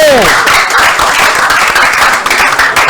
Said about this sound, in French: est-ce qu'on peut applaudir très fort pour Monsieur Camille de la Sotico